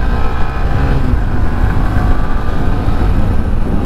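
A 2025 Honda Shine 125 motorcycle, a light 125 cc commuter bike, riding along a highway with a steady engine drone and heavy wind rush that stay loud and continuous throughout.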